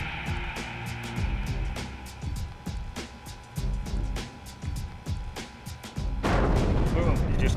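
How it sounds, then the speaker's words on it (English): An FGM-148 Javelin missile launch simulation with heavy booming rumble and repeated sharp cracks throughout, rising to a loud sustained roar near the end, with a voice partly audible under the noise. "pull your fire trigger on your right hand grip, send the missile downrange"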